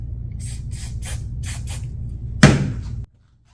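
Maxima SC1 lube sprayed onto rubber motorcycle velocity stacks for a Kawasaki ZX-4RR, with several short soft hisses followed by one stronger, longer spray burst that stops abruptly, close up.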